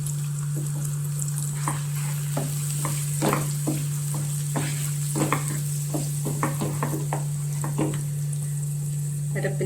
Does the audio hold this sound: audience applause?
no